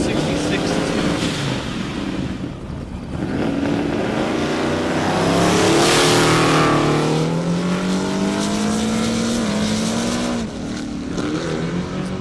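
Drag race car at full throttle on an airport airstrip course, engine roaring loudly and steadily with rising pitch sweeps as it pulls hard, a commentator talking over it.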